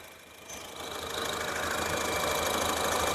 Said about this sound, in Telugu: i-VTEC engine,